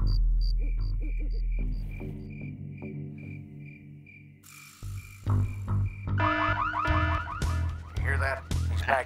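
An alarm is set off in the PC game Full Throttle Remastered, loud repeated electronic warbling and chirping pulses over game music and effects, growing busier toward the end.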